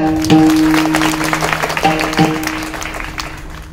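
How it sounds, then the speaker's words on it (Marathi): A kirtan audience claps loudly together, a dense patter of many hands with a steady tonal drone and harmonium-like notes underneath. "सर्वांनी टाळी वाजायचं जोरात."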